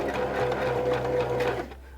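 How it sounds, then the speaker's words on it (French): A sewing machine stitches a sleeve placket on a dress, its motor whirring steadily and close for about a second and a half before stopping. "On va coudre jusqu'au creux du pli là."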